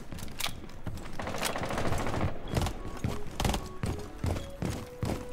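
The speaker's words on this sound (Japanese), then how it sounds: "なんか銃声遠かったな、今。" Rapid bursts of distant gunfire crackle in a tense Rainbow Six Siege ranked match, dense and repeated shots layered with sharp sound effects, loud overall with no talk over them.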